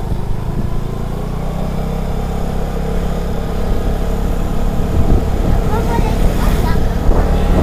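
A Vespa Primavera 150 ABS scooter climbs a hill in Bandung, its engine a steady loud drone under heavy wind buffeting on the microphone, with a rider's voice heard over it.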